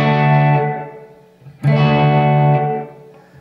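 A distorted electric guitar chord rings out through a Marshall SV20H amp with reverb in its effects loop. Two strong, sustained strums each decay gradually into a lingering tail, with no one speaking.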